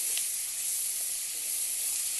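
Sliced onions sizzle steadily in hot oil for a spicy egg fry, a close, continuous hiss with no talking.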